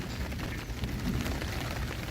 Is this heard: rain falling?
yes